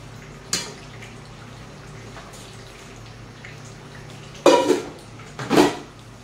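Kitchen utensils and dishes are cleared away, a single clink early on, then two louder clattering bursts of pots and dishes near the end over a quiet room hum; no talk.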